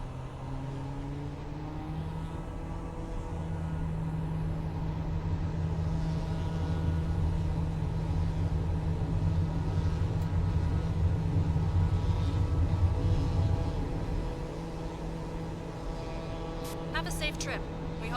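Airliner in Microsoft Flight Simulator 2024 rolling onto the runway at Piešťany, a steady loud engine drone and rumble with tonal whine, easing slightly near the end as faint clicks come in.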